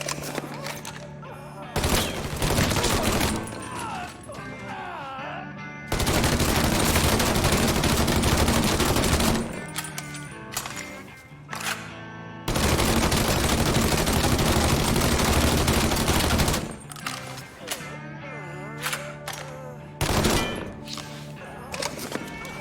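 Gunfire rings out in a shootout in the Mafia 3 video game: loud sustained bursts of automatic fire alternate with single shots and thuds, and in-game voices can be heard between the volleys.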